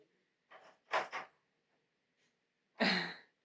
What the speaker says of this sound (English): They're playing with the door handle.